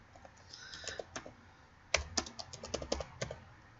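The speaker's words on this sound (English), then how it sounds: "let me just type it up first" Typing on a computer keyboard: a few scattered key clicks, then after a short pause a denser run of crisp, close taps in an uneven rhythm, with no voices.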